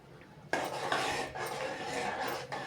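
A cooking pot of cucumber curry being stirred, a utensil scraping and clinking against the metal pot in a steady stretch of close scraping and rubbing.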